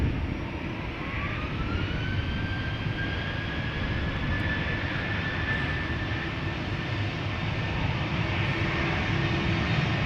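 KLM airliner departing Amsterdam Schiphol Airport, a loud, steady jet engine roar with a rising whine as the aircraft climbs away, continuous throughout without talk.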